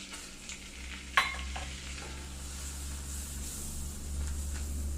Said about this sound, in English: My butter is melted, so I'm going to add my flour.